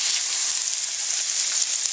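Catfish fries in a Fry 48 fryer with a dense, even hiss of bubbling oil, close and steady throughout with no talking.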